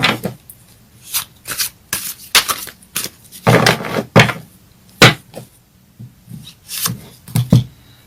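Fairy tarot cards are shuffled and drawn by hand, a run of close, crisp riffling bursts and snaps in an irregular rhythm for several seconds.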